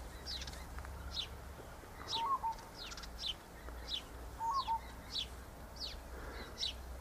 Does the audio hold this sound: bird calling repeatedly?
yes